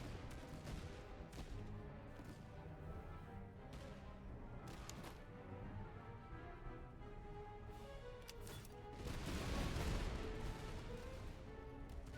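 Musket volleys in the Master of Command strategy game: a crackle of many scattered gunshots over battle noise, swelling into a louder burst of firing near the end.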